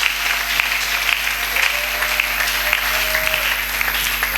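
A church congregation claps for the Lord in sustained, dense applause with many hands together, steady and fairly loud for the whole stretch, with no speech over it.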